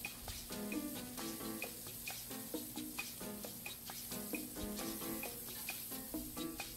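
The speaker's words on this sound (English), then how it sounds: "we put down some butter first before we put our Smashburger meatballs down" Butter and smash burger meatballs sizzle on a Blackstone griddle, a continuous crackling fry punctuated by regular scraping and tapping strokes, close and moderately loud.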